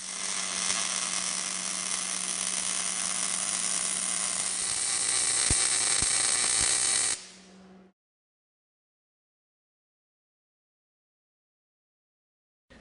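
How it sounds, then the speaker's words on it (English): A MIG welder lays one straight weld on a workpiece, a steady close-up crackling hiss with a faint hum that runs for about seven seconds and then stops abruptly, followed by silence. "You make one straight weld."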